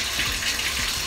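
Tap water running steadily while hair is washed, a close, continuous hissing splash with no breaks and no voices.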